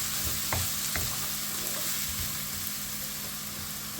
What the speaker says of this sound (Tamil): அப்போ நீங்கள் வதக்குங்க,